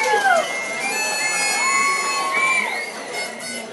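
At a Vermont business award ceremony, the audience cheers and blows noisemakers, producing shrill rising and falling whistles over a steady crowd roar. Voices can be heard in the mix.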